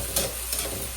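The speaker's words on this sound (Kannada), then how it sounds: "ಚೆನ್ನಾಗಿ ಫ್ರೈ ಮಾಡ್ಕೋಬೇಕು" A chapati fries in a hot pan with a continuous soft sizzle and light crackle, heard alone for about a second.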